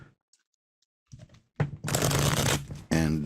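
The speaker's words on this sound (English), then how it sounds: "I'll shuffle them up." A deck of cards is shuffled in a psychic reading, with soft handling ticks followed by a dense riffling burst about a second long, then talking starts at the end.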